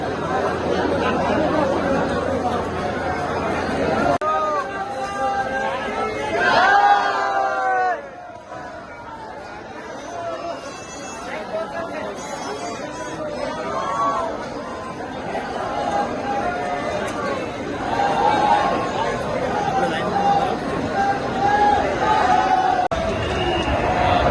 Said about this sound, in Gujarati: બહુ વધારે ભીડ છે.